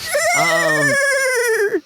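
A voice imitates a horse whinny, a single loud, wavering, rising-and-falling neigh held for nearly two seconds, close to the microphone.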